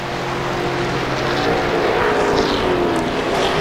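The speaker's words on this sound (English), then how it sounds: "I can hear him downshifting right there" Race car engine at the 2001 EA Sports 500 NASCAR race downshifting as it heads toward the garage, a steady droning roar with shifting pitch sweeps over broad track noise.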